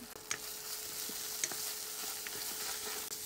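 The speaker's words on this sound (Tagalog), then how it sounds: "I-caramelize natin ng konti para talagang lumabas pa yung lasa ng ating ketchup." Ketchup frying and caramelizing in a home kitchen pan for shawarma fried rice, a steady soft sizzle with occasional spatula scrapes and stirring taps, close but fairly quiet.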